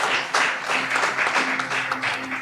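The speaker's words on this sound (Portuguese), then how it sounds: "Damos um aplauso para Jesus" Church congregation applauding during a Christmas service, a steady wash of many hands clapping at moderate loudness throughout, with a faint low hum underneath.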